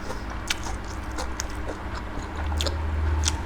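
Close, steady crunching and chewing of crisp food, with sharp bites punctuating a continuous munching sound.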